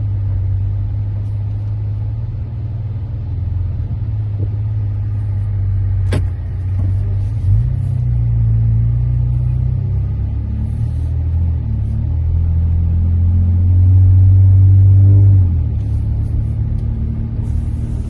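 A 2016 Dodge Charger with an O2 sensor fault on bank 2, idling with a low engine rumble, then backing up and pulling away as the engine note rises and revs gently.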